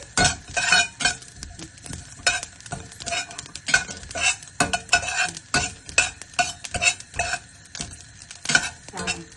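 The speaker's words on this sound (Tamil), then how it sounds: "மல்லி கொஞ்சம், வெந்தயம் போட்டு அதை வறுத்து" Coriander seeds and fenugreek dry-roast in a pan, stirred briskly with a metal spoon that makes rapid, uneven scraping and rattling bursts with light clinks, close up, while a voice murmurs faintly.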